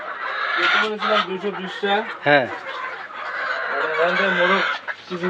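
Fayoumi chickens cluck loudly and repeatedly on a poultry farm, a rooster-like squawk cutting through midway, while a voice briefly joins in.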